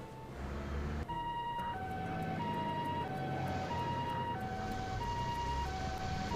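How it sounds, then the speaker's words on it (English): Several ambulance sirens in the video game Trails to Azure, wailing together in repeating two-tone patterns over a low engine-like drone, steady and fairly prominent with no talk. "Are those ambulances just now?"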